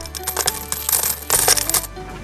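Many coins clink and rattle inside an iron pot holding thousands of Salvadoran coins, a dense metallic jingle that keeps shifting and swells louder in the second half, with no voices.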